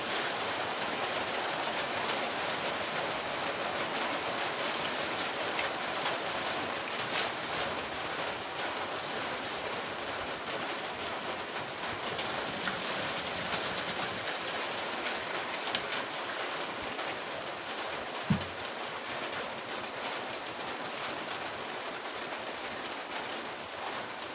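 Heavy rain pours steadily in a dense, continuous hiss with no voices, broken only by a faint thump or two.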